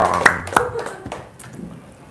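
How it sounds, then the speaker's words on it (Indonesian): A small audience clapping hands at an Indonesian talk, a few sharp distinct claps near the start that quickly thin out and fade, with people talking faintly underneath. "tepuk tangan dulu dong"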